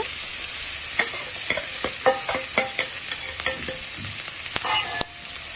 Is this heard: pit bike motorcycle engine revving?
no